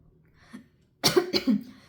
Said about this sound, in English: I started coughing out of nowhere